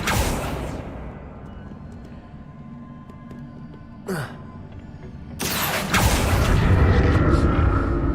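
A Confringo blasting spell goes off in Hogwarts Legacy with a sudden loud burst and rumble after a quieter stretch of game ambience and a short whoosh, the blast booming and sustaining loudly to the end.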